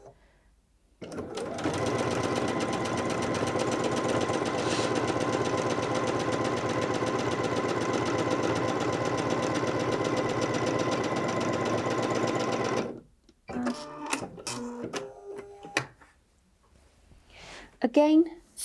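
A Bernette b77 sewing machine stitches through four layers of fabric in one long, steady, close run, followed by handling clatter and a voice.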